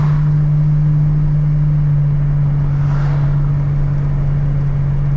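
A 1986 Buick Grand National cruising on the road, its engine a loud steady drone with a slight swell partway through as it pulls, heard from inside the car with no talk.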